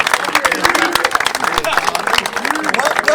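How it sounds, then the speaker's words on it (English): A studio audience applauds the high school football coaches on a sports show. The dense, steady clapping is mixed with a voice speaking over it throughout. "well-deserved round of applause"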